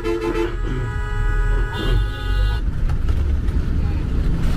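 Bus rolling through busy traffic in Chittagong, Bangladesh, with engine rumble and several car horns honking in short bursts, some near and some farther off, while voices talk inside.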